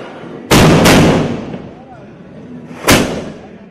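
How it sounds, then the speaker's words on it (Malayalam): Kadina Vedi ceremonial firecracker offering at Sabarimala temple in Kerala: three loud, sharp explosive booms, two close together and one a couple of seconds later, each trailing off in a rolling echo. "ഒരിടവേളയ്ക്ക് ശേഷം ശബരിമലയിൽ കഠിന വെടിവഴിപാട് പുനരാരംഭിച്ചു."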